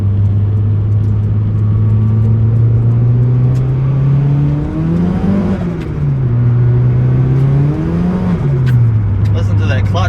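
Turbocharged 4G93 SOHC engine in a Mitsubishi Lancer droning loudly from inside the car, its pitch swelling and dipping through two revs as the clutch slips, steady and close throughout.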